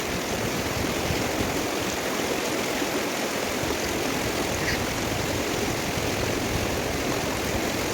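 A river rushes over slippery, moss-covered rocks at a Deorali river camp, giving a steady, loud broadband wash of water that holds constant throughout with no voices.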